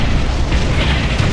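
A structure explodes in the real-time strategy game Ground Control, a dense, loud, low rumbling blast sustained through the whole moment with a few small pops in the mix and no talk.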